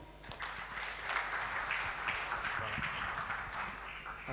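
An engineers' conference audience at Mlimani City keeps up a dense, even round of clapping, with voices mixed in underneath.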